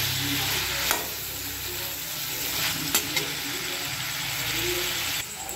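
Potatoes frying in a pan as a fish-head curry gets cooked, a close steady sizzle broken by a few sharp clinks of stirring and a brief drop near the end.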